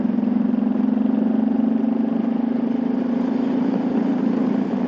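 A 2008 Kawasaki Vulcan 1600 Mean Streak motorcycle idles steadily outdoors, a close, even low rumble with a constant throb and no voices.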